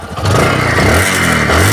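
A 2019 Discover 125 cc motorcycle engine, in fresh condition, revs up loudly and close in repeated rising surges with a slight clatter, and no one speaks over it.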